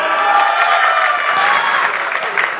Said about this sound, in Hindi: जोरदार तालियां, कम ऑन, ऊपर तक